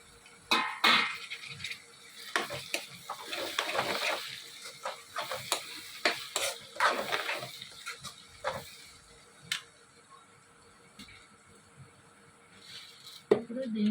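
Two medium tomatoes fry with ginger garlic paste in a pan, with soft sizzling under repeated clinks and scrapes of a spoon stirring against the metal.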